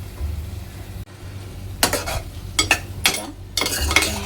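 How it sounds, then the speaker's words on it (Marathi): Prawns and potato tipped into a frying masala gravy for prawn pulao and stirred, with a low sizzle, a sudden pause, then several bursts of scraping and clattering from a spoon against the pan, close and clear, no speech. "आता ह्यामध्ये मी आपली कोलंबी आणि बटाटा टाकणार आहे।"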